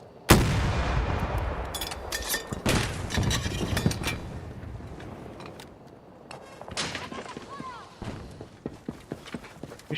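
Battlefield 2042 combat: heavy booms and cracking gunshots burst out in irregular bursts, some loud and near, others more distant, over a constant rumbling battle backdrop, with a voice talking through it.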